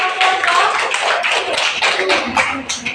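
Students in a classroom clap for a presenting group, a short burst of hand claps with uneven, partly rhythmic beats, close and fairly loud.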